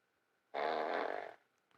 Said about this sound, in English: And then drop a fart on him.